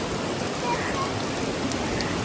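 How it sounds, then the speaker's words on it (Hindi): Heavy water dripping and pattering like rain inside the gorge at Watkins Glen State Park, a dense steady patter over a broad rushing backdrop. "पता नहीं इतना सारा पानी टपक रहा है।"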